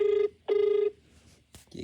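A telephone rings in two loud, close bursts separated by a short pause, followed by brief faint noises.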